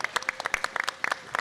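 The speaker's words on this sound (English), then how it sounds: "Give him a huge round of applause." Applause from a panel audience at GunCon 2024 for a gun YouTuber: a smallish crowd claps in quick, uneven patters, heard fairly faint and a little distant, with no voices over it.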